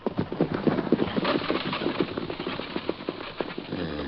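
Horse hooves clip-clop steadily up close in an old-time Western radio drama, a brisk rhythmic run of hoofbeats with a low rumble underneath and no voices.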